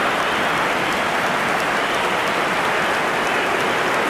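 Steady roaring stadium crowd at a Denmark vs Portugal football match in a video game, a dense wash of cheering and applause-like noise at constant high level throughout, with no voices distinguishable.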